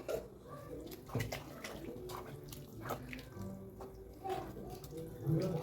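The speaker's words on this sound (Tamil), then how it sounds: "இது நல்லா கொதிச்சு வரட்டுங்க அவ்வளோதாங்க கொதிச்சிருச்சு" Lentils and greens boil in a pot on the stove, giving a steady low bubbling and burbling with small pops and drips throughout, fairly close and moderate in level, no one talking.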